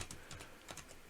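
Keystrokes on a Razer Huntsman keyboard, a quick irregular run of close, fairly soft clicks with no voices over them.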